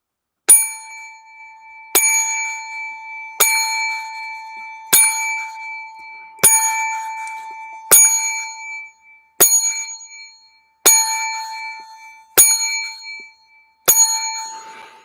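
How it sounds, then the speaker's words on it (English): A bell is struck ten times at a steady pace of roughly one ring every 1.5 seconds during a Friday sports show, each loud, bright ding ringing out and decaying before the next, with no talking. "raise the bell to the top, and let's bang it"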